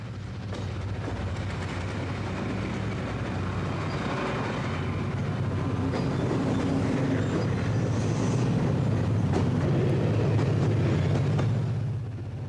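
A Long Island Rail Road commuter train with ex-Burlington Northern FA diesel units serving as power cars, giving a steady close low rumble and rolling rail noise that swells slightly and holds for the whole stretch, with no talk.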